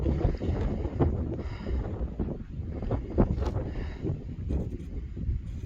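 Gusty wind buffets the microphone on an Appalachian Trail mountain lookout in late September, a loud rumbling roar that swells and drops in irregular bursts throughout.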